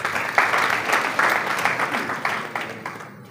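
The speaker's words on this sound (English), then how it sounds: "Please round of applause for them." An audience at an anti-corruption event claps steadily in a sustained round of applause, moderately loud, with waves of clapping that taper off toward the end.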